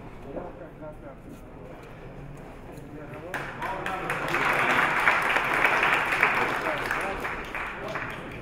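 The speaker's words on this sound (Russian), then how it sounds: "Болельщики поддерживают своих спортсменов. Ваши аплодисменты." Fans applaud at a grappling bout for third place, clapping swelling after a few seconds into a fuller wash with crowd noise while an announcer talks over it.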